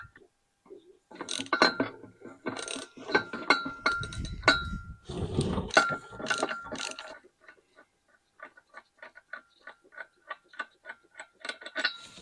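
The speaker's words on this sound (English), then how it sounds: "I am going to take the 2 bolts for the mount off so that comes out completely." T60 mount bolts on the driveline of a 25-year-old Mercedes S-Class loosened with a ratchet: bursts of close metallic clicking and rattling, then a quicker, lighter run of evenly spaced ratchet clicks.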